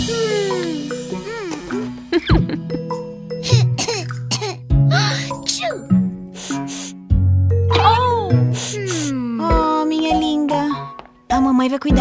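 Coughing sound effects punctuate a Portuguese children's song about being sick, several short bursts landing between sung lines and bright musical notes, with childlike voices and giggles mixed in.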